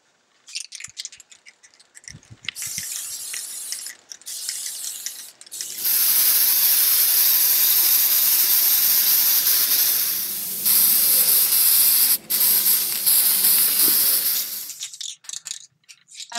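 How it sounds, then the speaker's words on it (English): Steady, loud aerosol hiss of PlastiKote Fast Dry Enamel spray paint applied to candlesticks, with short bursts early on, then a long continuous spray broken by brief pauses before tapering off. "Now I'm ready to start spraying."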